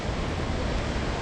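Ocean surf washing onto the rocky intertidal shore at Depoe Bay, a steady broadband roar of breaking waves, fairly close and continuous with no voices.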